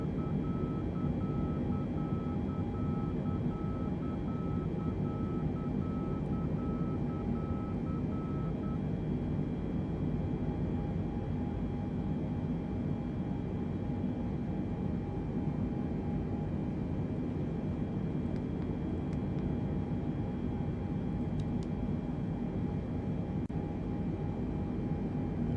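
Boeing 747 in United Airlines livery climbing out of Los Angeles in Microsoft Flight Simulator 2020, a steady broadband engine roar that stays constant throughout with a faint tonal beep early on.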